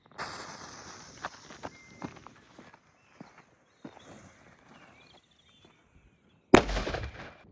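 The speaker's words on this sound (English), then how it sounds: "I wonder which of these firecrackers are going to open the lock. Let's try the Zena Red Salute." A Zena Red Salute firecracker blasts against a padlock: one sudden, loud, sharp bang near the end that rings out briefly, following a quiet stretch with small scattered knocks and rustling.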